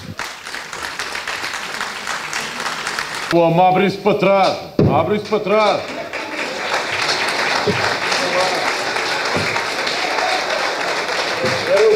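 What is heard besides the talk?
audience applauding carnival performers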